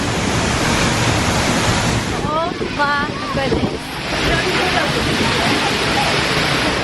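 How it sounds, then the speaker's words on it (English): A waterfall on Iceland's South Coast, seen on a walk behind the falling water, gives a loud, steady broadband roar with wind buffeting the microphone, while a person exclaims over the rush partway through. "Walk behind the waterfall."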